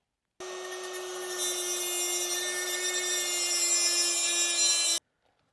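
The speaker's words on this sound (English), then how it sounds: "So I'm using a pretty precision little cutoff wheel to do so." A small precision cutoff wheel grinds through a metal tab on a PA-12 experimental aircraft door, a steady high-pitched whine with a sharp start, held close and loud for about four and a half seconds, then cut off abruptly.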